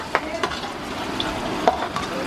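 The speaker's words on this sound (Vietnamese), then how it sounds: "mình sẽ đổ bắp bò vô nha các bạn," Marinated beef shank tipped into a pot for Huế-style beef noodle soup, giving a steady low sizzle of frying with a few sharp clinks and scrapes of stirring, close and fairly quiet.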